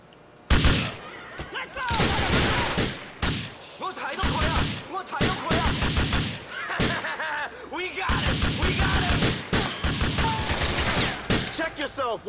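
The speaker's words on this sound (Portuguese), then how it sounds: "We're being shot at." Dense bursts of video game gunfire from GTA 4 rattle through the scene, rapid volleys and single shots crowding together loudly, with voices talking over the shooting.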